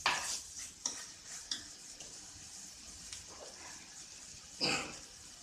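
Country chicken gravy masala with chilli powder sizzling in a pan as it is stirred, soft crackling broken by a few sharp scraping strokes and one louder burst near the end.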